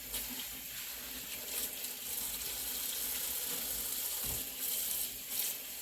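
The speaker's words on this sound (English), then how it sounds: "I'll shake it a few times and then dump the water out" Wash water from onion tops rushes and splashes as a colander is shaken over a bowl and the water is dumped out, a continuous close watery swish with a couple of louder surges.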